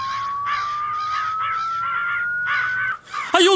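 Crows caw in dense, overlapping harsh bursts within a horror video game, a thin rising tone running underneath before a short gap and an abrupt loud jolt at the end.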